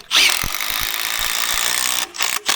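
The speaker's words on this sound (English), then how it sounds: "Then run a couple of big coach screws through it." A power tool drives big coach screws into very hard hardwood timber for an off-grid garden bed, a loud steady whirring drone lasting about two seconds before cutting off and briefly restarting.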